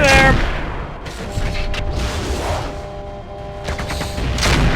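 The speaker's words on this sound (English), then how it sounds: "there's the artillery piece and its loader" Artillery fires in the mech combat game Mechwarrior 4: Vengeance, with repeated heavy booms and blasts rolling over a continuous low rumble of battle noise, loud and close.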